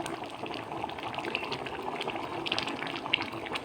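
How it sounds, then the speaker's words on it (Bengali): Raw mustard oil drizzles over boiling dal, with close, soft bubbling and liquid spatter and a few faint clinks throughout. "এবার কাঁচা সর্ষের তেল একটু ছড়িয়ে দিলাম"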